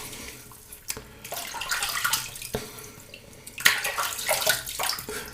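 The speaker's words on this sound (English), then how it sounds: "Just get my face wet again." Tap water runs and splashes close by at a sink as a face is wetted before shaving, a steady hiss broken by louder splashy bursts.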